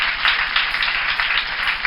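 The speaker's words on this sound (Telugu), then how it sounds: "గట్టిగా అందరూ కూడా చప్పట్లు కొట్టి అభినందించండి" An audience claps steadily, many hands together, giving a dense continuous patter of applause with slight swells and no talking.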